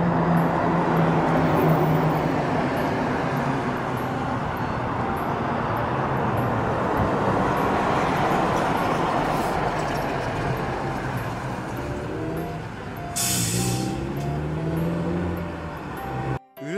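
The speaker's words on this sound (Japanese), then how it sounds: "県道沿いにあって車の音がめっちゃうるさいです" Steady roar of car traffic on a prefectural road running beside a reed-filled pond, a continuous broadband rumble that swells and fades slightly as vehicles pass, with no talking.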